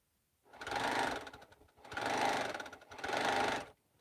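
A sewing machine running smoothly in three short bursts separated by brief pauses, a steady mechanical whir without clanking, close and fairly quiet.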